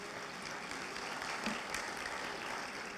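An audience claps steadily after a song performed at a sheriff's community crime summit, a dense, even wash of applause that holds at a constant level throughout with no talking over it.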